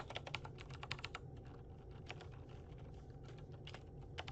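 Typing on a computer keyboard: quick bursts of light, close key clicks, clustered at the start and then scattered irregularly, fairly quiet.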